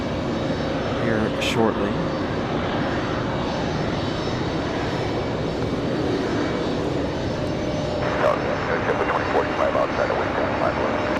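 A passenger airliner in New York Jets livery rolls along the taxiway toward parking at Raleigh-Durham airport, its engines producing a steady, loud roar with a voice speaking briefly over it.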